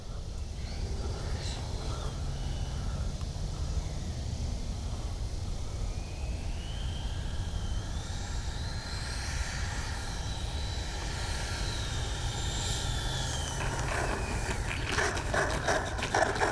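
An FMS 80mm F-86 RC jet comes in to land with gear and flaps down, its electric ducted-fan whine steady and fairly distant throughout, rising in pitch near the end against constant outdoor background noise.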